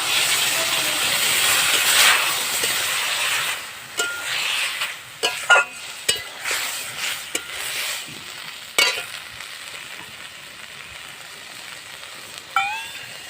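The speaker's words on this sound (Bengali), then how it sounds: "এবার আমি এই সর্ষে আর কাঁচা লঙ্কার পেস্টটা এতে দিয়ে দেবো।" Mustard and green chili paste hits a hot pan of fish curry with eggplant and green tomato, first a loud, broad hissing sizzle, then softer bubbling broken by sharp clinks and scrapes of stirring.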